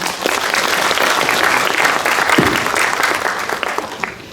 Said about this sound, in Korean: 김성훈 대표님께 다시 한번 박수 부탁드리겠습니다.